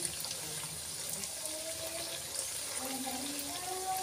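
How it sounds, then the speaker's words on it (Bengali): Fuchka (golgappa) puris sizzle and puff in hot oil as a fairly faint, steady bubbling crackle that runs on without a break and without voices. "ফুচকাগুলো লাল লাল করে ভেজে তুলে নিলাম"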